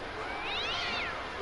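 A cat in the GTA 5 video game gives one long, rising-and-falling meow, loud and close over a steady background hiss, followed by a short second call.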